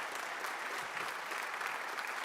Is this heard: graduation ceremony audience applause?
yes